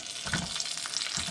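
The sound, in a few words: onions frying in lard in a hot pan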